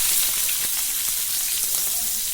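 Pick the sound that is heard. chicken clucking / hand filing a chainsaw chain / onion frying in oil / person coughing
onion frying in oil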